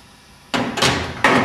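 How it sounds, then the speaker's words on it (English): A hammer knocks an accelerator pedal clamped in a vise, giving three loud, close metallic impacts, each ringing briefly before the next, after a quiet start. "you simply put that in your vise and just move it around and knock it with a hammer"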